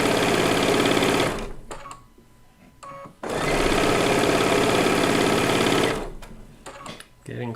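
A sewing machine stitches a quilt seam in two loud, close bursts of fast whirring, separated by a short pause with small clicks, then starts again briefly at the end.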